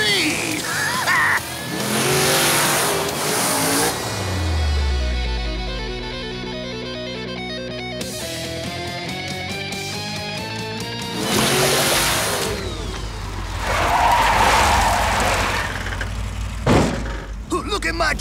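A cartoon truck revving hard and accelerating, engine roaring up and down in loud surges, with a rising pitch sweep, skidding noise and splashing, while excited cartoon voices shout over it.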